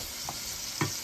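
Pork loin chops cooking in a pan give a brief, steady sizzling hiss with a couple of faint clicks.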